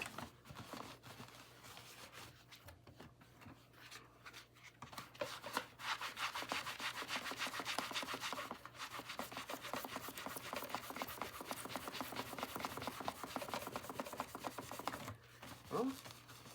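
Finish being scraped off the surface of an Oreck Dutchtech DTX 1300 heater, a rough repetitive rubbing that starts sparse and grows into a steady, close grinding scrape lasting many seconds.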